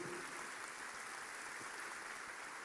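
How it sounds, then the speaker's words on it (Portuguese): A church congregation in Curitiba applauds in worship, producing a steady, dense wash of clapping that stays even and fairly faint throughout, with no voices over it. "Você pode aplaudir ao Senhor"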